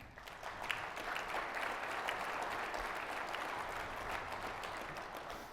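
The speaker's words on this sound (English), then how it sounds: "please let's have a round of applause for them." A crowd applauds steadily, a dense even wash of clapping that holds for several seconds without speech.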